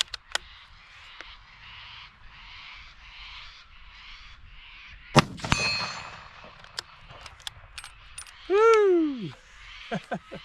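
A rifle bullet strikes a steel ARRAKIS target downrange with one sharp clanging impact and a brief metallic ring, set among quieter outdoor knocks, with a voice exclaiming shortly after.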